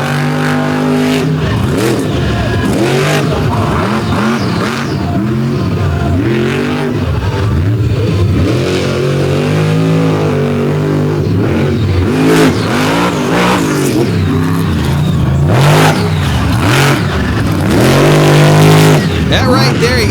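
Race car engines revving hard at an off-road race at Fowlerville, loud rising and falling roars of acceleration throughout, with commentary talking over them.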